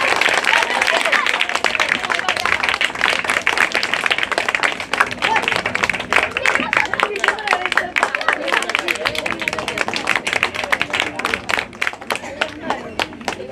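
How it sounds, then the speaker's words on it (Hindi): A crowd at a school event applauds its principal with loud, sustained clapping from many hands, a dense rattling wash lasting well over ten seconds with some crowd murmur and voices mixed in. "ताली के साथ जोरदार स्वागत कीजिए सब लोग।"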